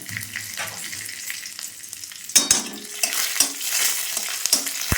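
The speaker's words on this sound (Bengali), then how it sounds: "তেলটা গরম হয়ে এসেছে, এর মধ্যে আমি 1 চামচ জিরে, 2 শুকনো লঙ্কা, 2 তেজপাতা ফোড়ন দিলাম" Cumin seeds, dried red chilies and bay leaves sizzling in hot white oil for Bengali moong dal with peas and raisins, a steady bright crackle broken by sharp pops and spatters, close and loud with no talk.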